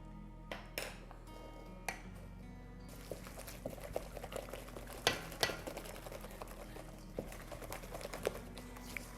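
Apple cinnamon cake batter is mixed by hand in a bowl, with soft, irregular clinks and taps of a utensil against the bowl, close and quiet.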